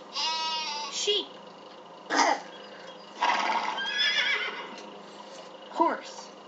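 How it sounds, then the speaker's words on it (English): A horse whinnies loudly with a high, shaky neigh, followed by a few shorter whinnies and snorts spaced across the clip, with brief speech between them. "Horse."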